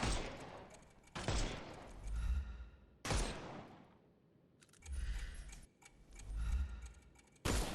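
Gunfire in the Sherlock Holmes Chapter One video game on PS5, several sharp loud shots at irregular intervals, each followed by a rumbling decay, with the combat noise swelling between them.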